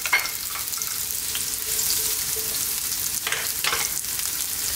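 Red onion fries in a pan with a loud, dense, continuous hiss and crackle, close up, with a few brief stirring bursts partway through and no voices.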